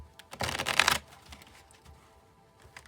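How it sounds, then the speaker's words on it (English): Tarot cards shuffled up close in one quick, crisp riffle lasting about half a second, then faint handling and quiet room tone, with nobody speaking. "let's shuffle again and we'll draw the Sun card"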